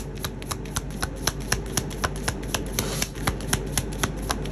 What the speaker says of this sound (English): I'm only gonna pull one of these cards.